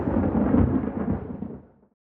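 Thunder rolls during a rainstorm in Busan, a deep, heavy rumble that swells early and then gradually dies away into silence.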